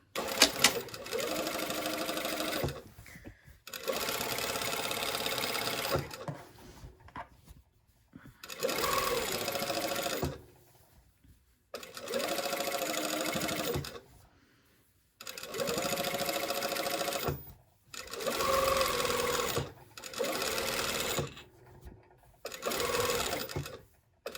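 A sewing machine top stitches a pressed dress seam in seven bursts of steady rapid stitching, each a few seconds long, separated by short pauses, close and alone.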